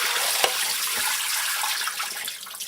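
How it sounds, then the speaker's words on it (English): Starchy soaking water drains from sliced potato chips through a draining tool, a steady rushing pour like a tap running, continuous and fairly close with no voices. "So if I drain that with my, hang on, my special draining tool"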